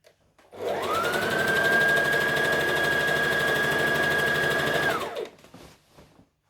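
A sewing machine top stitching a garment: a close, steady motor hum rises, holds for about four seconds at an even pitch, then winds down and stops, with no talking.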